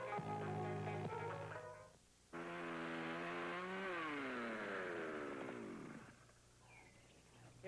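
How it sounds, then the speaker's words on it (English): A chainsaw runs loudly and steadily, dropping briefly before revving up again to a strong, rising whine that then fades off, heard on its own with no talk. "So I keep my chainsaw in real good shape."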